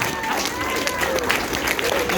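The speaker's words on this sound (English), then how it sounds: "Now applause. Applaud." Audience applause at a comedy show, a dense, steady wash of clapping from a crowd, with voices mixed in.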